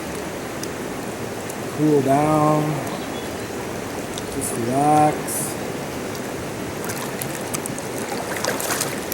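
A creek flows steadily beside a gold prospecting spot, a constant close rush of water under someone speaking twice.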